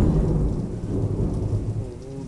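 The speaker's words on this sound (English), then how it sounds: "just hear the thunder" Thunder rumbles low and heavy through steady rain on a stormy night, a loud, continuous roll with rain pattering throughout and nobody speaking.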